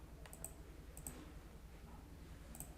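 Mouse button clicks while choosing from a drop-down menu, a few crisp, close clicks in small pairs spaced across a quiet room with steady low hum.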